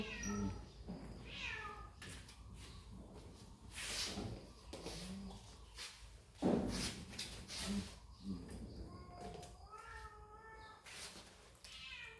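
Cat meowing repeatedly, several rising and falling meows and a caterwaul-like cry, fairly close, with background rustle and a faint voice at times.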